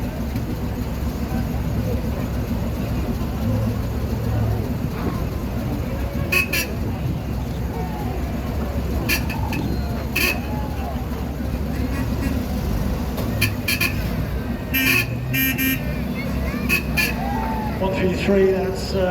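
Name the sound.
GMC CCKW 353 military troop carrier driving past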